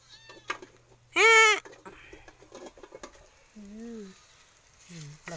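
A kitten gives one loud, high meow, followed later by two softer, shorter mews amid quiet background clatter.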